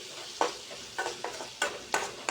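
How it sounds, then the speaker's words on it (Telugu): A spoon scrapes and stirs ginger garlic paste with turmeric in a frying pan, five or six rhythmic close strokes over a soft steady sizzle. "ఇందులోకి కాస్త జింజర్ గార్లిక్ పేస్ట్ యాడ్ చేసుకోండి యాడ్ చేసుకొని మిక్స్ చేసుకోండి"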